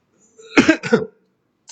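Two quick, close coughs in a row, the second slightly softer, in otherwise quiet surroundings.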